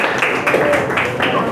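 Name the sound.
applause for group 3 in a classroom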